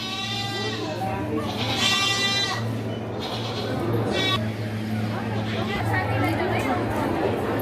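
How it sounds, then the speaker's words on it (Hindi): Goats bleating repeatedly along a cloud-covered mountain path to the Manakamana temple in Nepal, close by, with people chattering over a steady low hum throughout. "बकरी"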